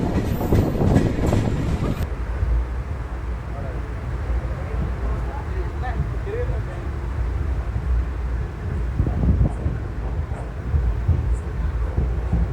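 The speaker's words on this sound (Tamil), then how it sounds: "இப்போது ஈரோடுலேருந்தும் ட்ரெயின் ஸ்டார்ட் ஆகிடுச்சிங்க" The Chennai–Calicut passenger train 12685 rumbles steadily along the tracks near Erode and Tiruppur with a low continuous roar and faint rhythmic clacking, heard from inside a carriage.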